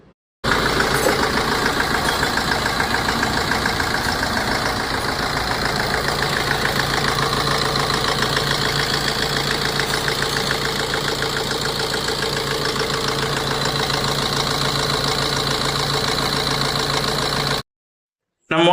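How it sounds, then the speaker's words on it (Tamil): A Tata Aria's 2.2 diesel engine runs at a steady idle in a garage for most of the stretch, close and loud with an even rattling beat, before it cuts off near the end. "நம்ம இந்த இன்ஜினை வண்டியில் போட்டு வண்டி ஸ்டார்ட் பண்ணி பார்த்துடலாங்க"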